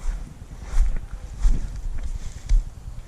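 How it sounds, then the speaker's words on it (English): Gusty wind buffets a microphone outdoors at a small helicopter flying field, coming as low rumbling bursts that swell and fade in a few irregular pulses. "the wind is a bit much right now"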